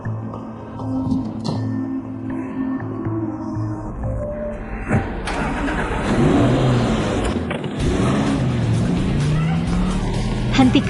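A car drives along with a steady low engine hum and road rumble that grows rougher and louder partway through, while people talk over it inside.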